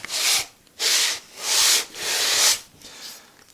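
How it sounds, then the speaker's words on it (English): Carved wood piece rubbed back and forth on a flat sheet of sandpaper, producing four or five steady rasping strokes with short pauses between them, close and fairly loud. "I'm going to make sure it's flat by just rubbing it up and down on a flat piece of sandpaper, very carefully"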